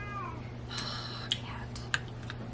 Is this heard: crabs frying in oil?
no